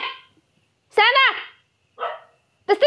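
A dog barks up close in a few separate bursts with short pauses between them, each bark loud and tonal.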